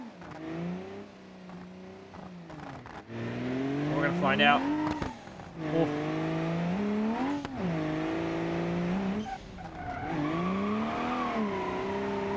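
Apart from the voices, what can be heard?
drift car jump drift in video game BeamNG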